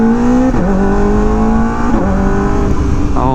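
A Kawasaki ZX4RR motorcycle engine screams high and loud right up close as it revs out, with two quick-shifter upshifts that each drop the pitch briefly before it climbs again.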